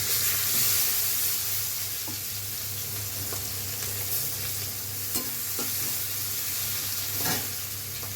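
Chopped onion frying in oil with panch phoron, hing and a dried red chilli: a constant close sizzle and hiss with a low hum beneath and occasional soft stirring taps, steady throughout, with no talking.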